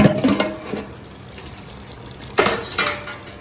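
A lid comes off a pot of Goan beef and pork stew with potatoes and carrots, two close clanking bursts of metal and a watery bubbling rush separated by quieter simmering noise.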